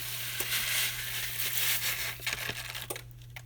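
Jambalaya mix rice sizzles and crackles steadily in a hot pan, with a constant frying hiss and a few scraping stir sounds near the end, close and moderately quiet.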